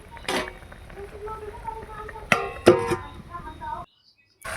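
A lid lifted off a cooking pot of simmering vegetables, spinach-stem curry on a home stove, giving a couple of close metallic clinks and clatters amid kitchen bustle and background talk.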